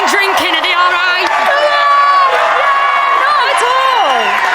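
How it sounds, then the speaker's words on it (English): A studio crowd at a television launch night cheers and whoops loudly and continuously, with shrill voices rising and falling above a dense wall of noise. "that response from the crowd was fantastic"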